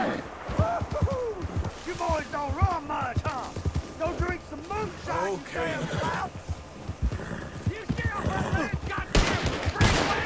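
Bursts of gunfire from bounty hunters in the Red Dead Redemption 2 video game, mixed with horse hooves and whinnies, with talking over much of it.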